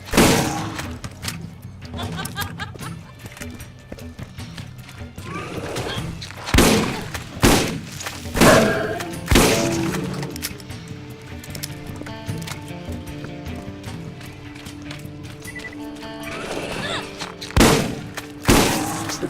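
Shotgun blasts against spider ants in a Borderlands game, several loud booming shots spaced irregularly across the stretch, with game action and someone talking in between.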